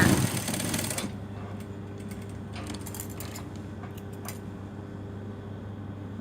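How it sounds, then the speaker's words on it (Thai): Sewing machine stitching the hem of a lined dress, running loud for about a second and then settling into a softer steady mechanical hum with faint clicks, no talking. "ถ้าเป็นเราทำเราจะไม่ขีดนะเย็บมาเลย เย็บมาเลยนะคะ"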